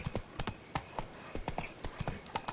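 Roach's hooves clip-clop at a steady trotting rhythm in The Witcher 3, near and fairly loud, with faint ambient sound underneath and no talk.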